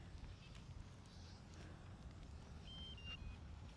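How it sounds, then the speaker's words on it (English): Outdoors, a drone's remote controller gives a few short, thin, high beeps as calibration completes. The beeps are faint and brief, over a low background rumble. "heard the beeping to say the calibration is complete"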